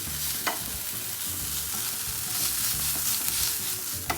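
Stuffed mushroom filling stirred in a hot frying pan, a steady soft sizzle with scraping spoon strokes and occasional clicks against the pan, close and alone without talk.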